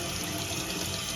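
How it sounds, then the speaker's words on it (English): Cold tap water pours steadily over drained garbanzo beans in a strainer, a continuous close hiss and splash with no voices. "I'm going to give them a good rinse in cold water."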